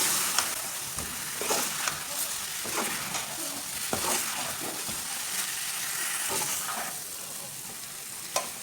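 Boiled potatoes being re-fried in a pan for a potato and onion curry give a continuous soft sizzle and hiss, broken by repeated stirring scrapes and light clacks at an even pace, with no talking.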